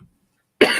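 A single sharp cough bursts out close after near silence.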